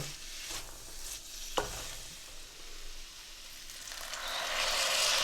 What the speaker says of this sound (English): continue frying for a minute or so